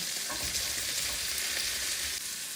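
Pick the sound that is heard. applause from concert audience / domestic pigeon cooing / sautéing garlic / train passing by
sautéing garlic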